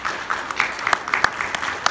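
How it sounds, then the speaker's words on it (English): Audience applause at a Diamond Select Toys convention panel at San Diego Comic-Con 2018, a steady patter of many hands clapping with a few sharper claps standing out, moderately loud and without talk. "I will ask for a round of applause for these four very talented and"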